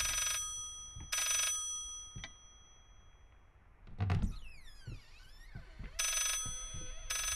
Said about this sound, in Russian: О, мне звонят. Мне нужно срочно ответить. Где телефон?